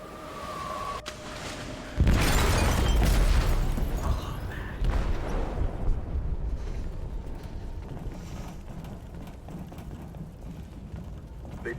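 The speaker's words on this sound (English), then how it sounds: "They detonated an explosive in the hold." An explosion goes off in a ship's hold in the video game Detroit: Become Human. A sudden loud boom is followed by a long rumbling roar that slowly fades, under game sound effects.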